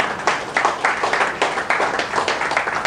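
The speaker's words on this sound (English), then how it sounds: "Please give my dear sister a round of applause." Applause from a nursing conference audience: dense, continuous clapping from many hands, moderately loud and steady throughout, with no clear speech over it.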